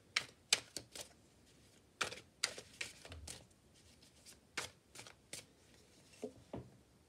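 Tarot cards being shuffled for a reading, a series of crisp riffling snaps and flicks at irregular intervals, close and quiet, with no talking.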